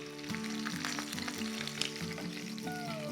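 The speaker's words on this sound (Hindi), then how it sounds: "चिकन को हल्का सा घी में टॉस भर किया है" Chicken pieces sizzle steadily while being tossed in hot ghee, a continuous close frying hiss with a faint bubbling texture and no talking.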